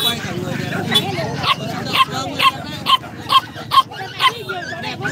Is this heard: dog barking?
yes